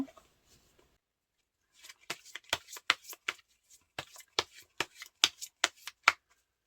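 Tarot cards are shuffled close up by hand in quick bursts of crisp riffling snaps, about a dozen sharp flicks in an uneven rhythm after a quiet opening.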